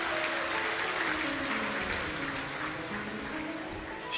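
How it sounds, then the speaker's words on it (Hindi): A large audience claps loudly during a Shiva Mahapuran religious discourse, a dense, steady roar of hands sustained throughout, with faint tonal music underneath. "एक बार जोरदार ताली बजाकर बहुत बहुत साधुवाद।"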